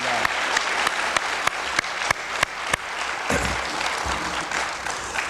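An audience at a school speech contest applauds students on stage. The applause is dense and steady, with a few louder individual claps standing out and low rumbling handling noise midway.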